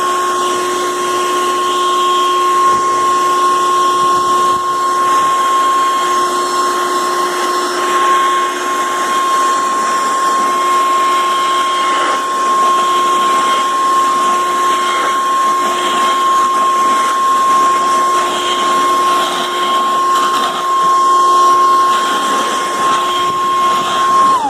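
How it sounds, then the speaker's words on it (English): A Makita 36V XBU02 leaf blower runs at full speed, a loud, steady high-pitched whine with a constant rushing of air, held unbroken for the whole stretch. "I'm going to go ahead and leave it on full speed here"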